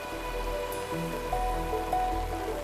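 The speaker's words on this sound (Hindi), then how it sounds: "इस बारिश को भी अभी आना था।" Steady soft rain patter with a low constant hum underneath, a few faint tones drifting in and out, no talking.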